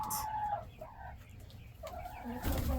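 Backyard chickens settling onto their roost for the night near a turkey, giving short clucks and fowl calls in a busy, close flurry.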